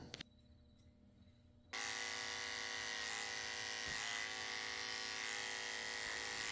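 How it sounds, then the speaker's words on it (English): Electric clippers with a 10 blade shave fur near the corners of a Yorkie's eyes. After a quiet start with a couple of clicks, a close, loud, steady motor buzz switches on and runs to the end. "I'm shaving out the corners of her eyes with a 10 blade."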